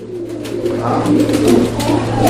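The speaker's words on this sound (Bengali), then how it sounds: "আমি হাড়িটা সরাই দেই, কবুতরগুলো দেখেন, কবুতরগুলো দেখেন।" Fancy pigeons at a market coo in low, rolling throaty calls, close and continuous over a steady background drone.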